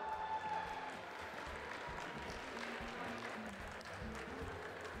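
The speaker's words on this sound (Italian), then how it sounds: "Ancora un grande applauso a tutti gli splendidi cuccioloni." Applause at an Italian dog show for the junior dogs, steady crowd clapping heard at a distance, soft and continuous for five seconds with faint voices underneath.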